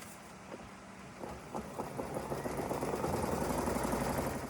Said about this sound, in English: I'm going to go ahead and stitch my first color, which is a placement stitch.